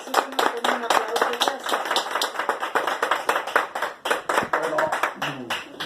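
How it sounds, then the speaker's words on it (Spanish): An audience at a lecture on the Fourth Transformation claps to welcome the speaker, dense irregular handclaps at close range, with a few individual claps standing out, and no talk over it. "Le recibimos con un aplauso."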